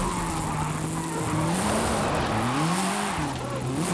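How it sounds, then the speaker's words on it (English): A 1973 Alpine A110 1600S drifting in Forza Horizon 5, its engine note wavering up and down continuously with tire skid noise, loud and sustained throughout. "It is drifting."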